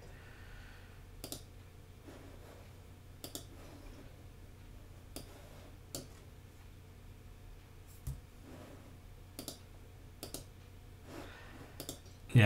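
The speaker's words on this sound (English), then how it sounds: "Let's click into a different page and then click back to page two." Computer mouse clicks while paging through a Lightroom photo book layout: sparse, sharp single clicks at irregular intervals, close and fairly quiet over a faint steady hum, no talking.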